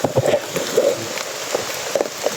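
Daily rain pattering outdoors, light scattered drops and splashes over a soft wash of falling water, uneven and moderately close with no talking.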